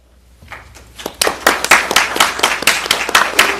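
Audience applause at a council re-organization meeting, starting as a few scattered claps and swelling into steady, fairly close clapping from a roomful of people.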